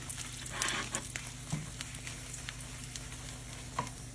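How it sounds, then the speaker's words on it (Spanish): Chile de árbol frying in oil for a red salsa, a soft crackling sizzle with occasional louder pops and stirring clicks, fairly quiet and close. "Voy a agregar aquí el aceite, chile de árbol."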